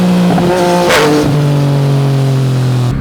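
Yamaha MT-09 (2021) motorcycle engine revs hard, then a quickshifter gear change briefly cuts the injection, a short break before the loud engine tone resumes at a lower pitch.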